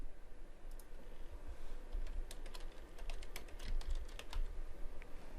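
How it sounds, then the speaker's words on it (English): Rapid, uneven keystrokes tapped on a computer keyboard while a student login is entered, close and fairly crisp over a low room hum, with short pauses between bursts. "Simply type in your student login"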